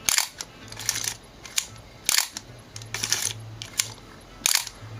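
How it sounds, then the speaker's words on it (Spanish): Film being advanced in a Leica R3 35mm SLR camera: a run of sharp mechanical clicks and ratcheting snaps, close and fairly quiet, spaced irregularly with low handling noise between them. "Entonces acá corremos el rollo."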